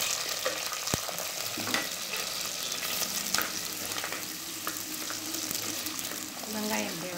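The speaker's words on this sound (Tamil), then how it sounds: "இப்போ இந்த வெங்காயத்தை போடுறேன்" Onion dropped into a pan of fenugreek frying in hot oil for a river catfish curry, giving a steady broadband sizzle with stirring clatter and a few sharp spatter pops, close and continuous throughout.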